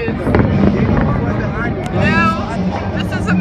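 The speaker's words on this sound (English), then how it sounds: "I did see better fireworks yesterday. These are behind the trees." Fourth of July fireworks bursting behind trees, a steady roll of distant booms and crackles beneath a chattering crowd of nearby voices.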